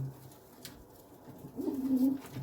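Pigeons being fed makhni give a low, soft coo that swells briefly near the end of the clip. Faint ambient noise sits underneath, and there is no talk.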